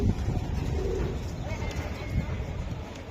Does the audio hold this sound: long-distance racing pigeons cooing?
yes